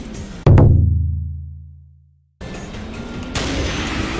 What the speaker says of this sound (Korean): 카트에 써는 총소리가 나는데 깜짝 놀랐네.